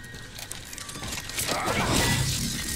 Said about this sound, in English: I guess I don't need to open the door if I just break the glass